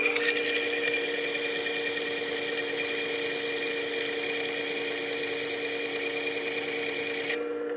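A chisel back rocked on an 80 grit sharpening plate gives a steady, close abrasive hiss and grind that runs continuously for several seconds, then drops off near the end, with no talk.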